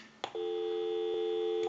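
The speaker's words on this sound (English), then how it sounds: "We'll call my number and it'll be busy." A steady payphone busy tone hums on a single pitch for over a second, bracketed by faint clicks, with no voices.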